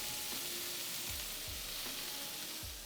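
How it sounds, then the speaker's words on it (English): Garden potatoes sizzle steadily as they fry in a pan for a brisket hash, a close, continuous hiss with a few soft thumps as pieces shift or are stirred. "You guys hear these sizzles or what?"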